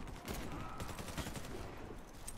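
Rapid bursts of gunfire in the video game Warface, faint and continuous, a quick crackle of shots throughout.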